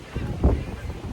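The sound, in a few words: wind outdoors on a cold rainy day in Paris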